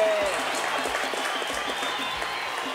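A studio audience on a Brazilian morning talk show applauds in a steady patter of clapping, moderately loud and fairly even throughout, with a faint voice briefly audible at the start.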